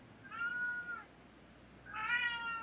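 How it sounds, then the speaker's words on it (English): A cat meows twice, fairly faint and well apart, with a quiet room hum in between and no talking. "That's a cat."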